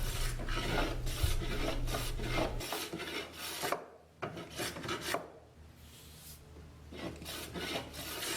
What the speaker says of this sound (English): I just planed the bandsawn face, and it actually was a lot quicker